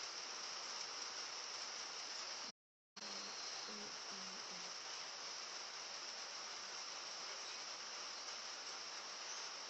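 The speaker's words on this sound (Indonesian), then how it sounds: "Hujan-hujan nih." Steady rain falls outside, a continuous dense hiss that fills the background, briefly cut off once, with faint low murmurs beneath it.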